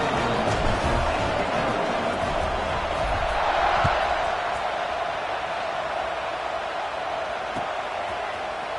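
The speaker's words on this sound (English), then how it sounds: "this crowd is buzzing after that last score" A football stadium crowd buzzes steadily after a score, a dense, continuous roar of many voices heard from a distance, even in level with no sharp peaks.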